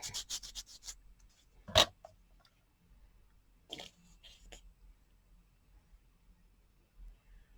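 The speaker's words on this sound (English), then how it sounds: "Oh, we better sand a bit on that." Sandpaper rubs the edge of a cut paper piece for a junk journal cover in a few short, quick scratchy strokes up close, with one sharp knock and quiet pauses in between.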